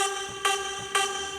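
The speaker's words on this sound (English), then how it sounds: "This is also like a synth shot." Big room EDM synth shot with a strong tonal, horn-like character: two sharp repeated hits over a sustained chord, heard alone.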